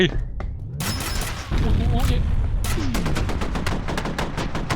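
Gunfire and explosive blasts in the first-person shooter F.E.A.R., with heavy booms and rapid bursts of shots rattling close and loud throughout, plus an excited voice speaking over the combat.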